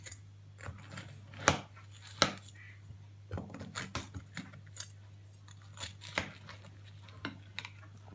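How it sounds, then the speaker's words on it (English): A serving spoon digs a scoop out of a baked apple crumble in its dish, making close, irregular clinks, scrapes and soft crunches with quiet gaps in between. "My beautiful assistant is now going to cut a scoop of it out for one of the chitlin."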